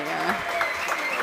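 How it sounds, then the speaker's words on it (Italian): A crowd claps for the winning pair at a padel tournament, a brief patch of steady applause with a commentator's voice running over it. "qua si prendono gli applausi la coppia LeBron Racca"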